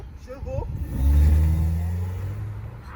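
A Suzuki Ertiga's engine revs up sharply and holds a loud, deep drone that slowly fades. Someone speaks briefly just before it.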